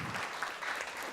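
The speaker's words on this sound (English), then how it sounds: "You can clap for her." A short burst of audience applause, steady clapping from a crowd at moderate distance, at a sports hall of fame induction ceremony.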